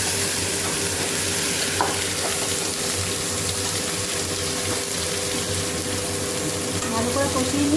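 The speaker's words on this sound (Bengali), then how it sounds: "ভালো করে কষিয়ে নিই।" Fish sautéed with ground spice paste in a home kitchen, a continuous close sizzle with stirring and scraping, a faint running-water wash underneath throughout.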